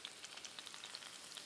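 Seven or eight cloves of garlic fry in a paella pan, giving a faint, even sizzle dotted with tiny crackling pops, close but quiet, with no speech.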